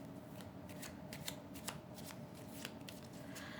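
Tarot cards shuffled by hand in a quick series of crisp riffling bursts, close and fairly quiet, with no talking.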